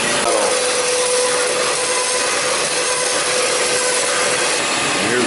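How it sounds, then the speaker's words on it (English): Steel U channel being cut for a tractor three-point hitch receiver, a loud steady grinding hiss with a faint ringing tone that runs without a break and without talk. "Now we're cutting 2 of these U channels."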